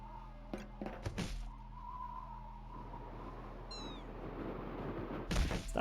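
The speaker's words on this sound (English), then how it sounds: "Stop meowing at me." A cat meows from a video playing inside the Voices of the Void game, a short rising call cutting through quiet room tone, with soft thumps before and after.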